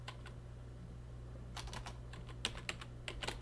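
Keystrokes on a computer keyboard as a password is typed at a login prompt on an ODROID C4 single-board computer: faint sparse taps at first, then a quicker run of clicks over a steady low electrical hum.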